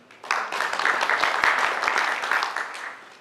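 A dinner audience at an expo event breaks into brief, moderately loud applause lasting a few seconds, many hands clapping together at close range.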